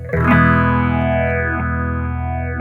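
A guitar chord rings out through a Spaceman Explorer phaser pedal and sustains while the phase sweep moves steadily across it, heard alone and up close.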